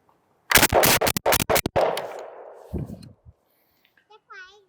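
A rapid string of about five loud shotgun blasts fired close by, roughly a quarter second apart, one of a group of inexpensive shotguns around $200, followed by a fading echo, a couple of clanks, and a faint voice at the end.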